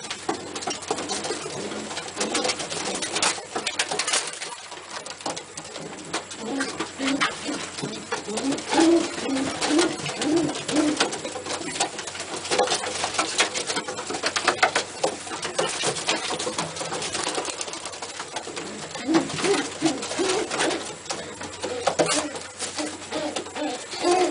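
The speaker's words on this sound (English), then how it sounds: "That bird I just put out, I really like that bird." Racing pigeons coo steadily in a loft, a dense overlapping chorus of soft, throaty calls that runs throughout at moderate loudness with no pauses.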